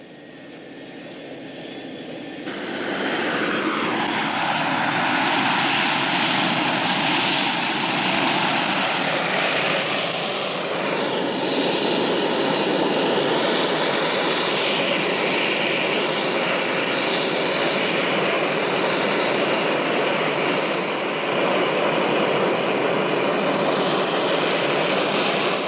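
Spacecraft engine roaring as the craft flies in to land, a loud, continuous whooshing drone that swells in after a couple of seconds and holds steady and close for over twenty seconds, with no speech.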